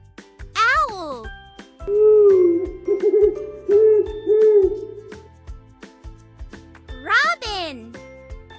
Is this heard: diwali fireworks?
no